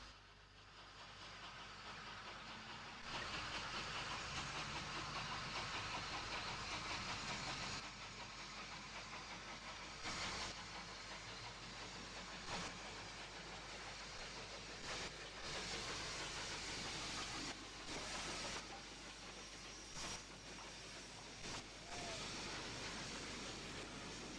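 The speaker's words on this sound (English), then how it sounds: "making liberal use of her steam sanding gear as she leaves heading north" Merchant Navy class steam locomotive Royal Mail pulls out heading north with its steam sanding gear in liberal use, giving a broad continuous steam hiss punctuated by rhythmic bursts of exhaust and rail noise, moderately distant and steady.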